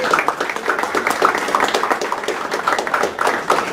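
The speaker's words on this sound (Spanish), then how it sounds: "Le damos fuertes aplausos para él también." Audience applause at a book presentation held at a school, a steady patter of many hands clapping throughout, moderately loud and evenly sustained with no voices rising above it.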